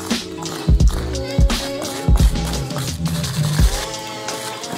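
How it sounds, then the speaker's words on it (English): A fresh batch of wet concrete is mixed for a small skate ramp, giving close, wet squelching slaps and drips in irregular bursts, with no talk. "I'm gonna mix up another batch and do the second spot now"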